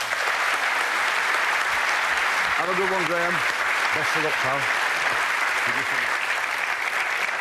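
TV studio audience applause on the darts game show Bullseye in 1992, a loud, steady wall of clapping that runs for over seven seconds while someone speaks briefly over it.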